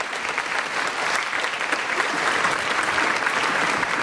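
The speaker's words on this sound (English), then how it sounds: "So a huge round of applause." An audience at a high school spring choir concert applauds, a steady wash of clapping from many hands that swells slightly toward the end.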